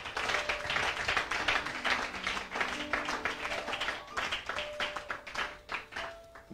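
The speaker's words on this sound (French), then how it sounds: "Clap for Jesus." A church congregation claps together in a steady, rhythmic beat, the sound filling the room at moderate volume with no voices over it.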